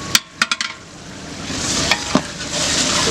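A spoon stirring chicken jalfrezi in a pan gives a few sharp scrapes and clinks over a steady close sizzle that swells toward the end, with no talking.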